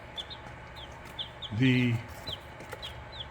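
A rooster and hen cluck in short, scattered calls at close range, with one louder, drawn-out cluck in the middle, while a voice briefly speaks.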